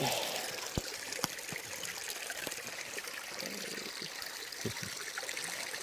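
A small stream trickles steadily outdoors, a continuous soft wash of water with faint clicks and splashes throughout.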